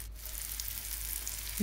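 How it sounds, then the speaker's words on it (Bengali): Chopped onions and green chillies fry in oil with a steady, close sizzling hiss under a low background hum, ending in a short tonal sound. "পেঁয়াজগুলি ভালো করে ভাজা হয়ে গেলে"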